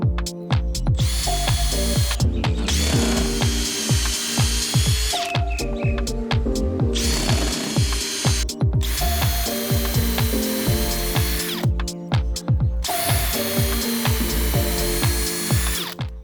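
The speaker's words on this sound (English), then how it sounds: "You can just use a standard size drill bit." Power drill boring holes into a shiitake mushroom log, repeated bursts of high whining drilling separated by short pauses, loud and close, with a steady low motor hum and knocking underneath.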